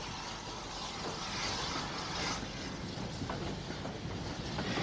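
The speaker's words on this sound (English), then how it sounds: "With a helpful shove from the Omagh shunting engine, she climbs the bank up to the Dublin Road Bridge" A steam locomotive hauling empty coaching stock climbs a bank toward a road bridge in Omagh, pushed by a shunting engine; a steady rumbling, chuffing roar with faint rail clatter, moderately distant and continuous throughout.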